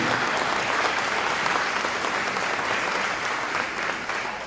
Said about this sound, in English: A big round of applause for Hayden.